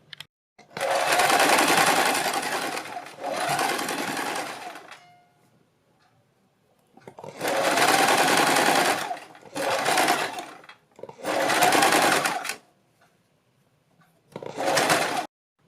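An electric sewing machine stitches a gown's lining in several bursts of rapid, buzzing whir, each lasting a few seconds and separated by quiet pauses.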